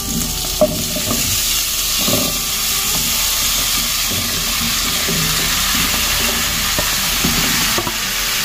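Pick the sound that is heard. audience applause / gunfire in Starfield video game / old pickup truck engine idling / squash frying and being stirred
squash frying and being stirred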